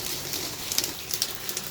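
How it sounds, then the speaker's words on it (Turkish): Rain falls outdoors as a soft, steady hiss with faint scattered drop patter, quiet and brief. "Yağmur da yağıyor."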